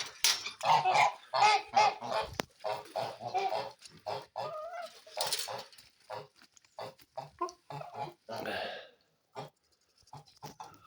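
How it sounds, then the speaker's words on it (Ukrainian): Kholmogory geese honk repeatedly in loud, nasal bursts at close range while eating wheat, with some chattering calls mixed in and brief pauses between volleys. "Хочу показати вам гусей своїх."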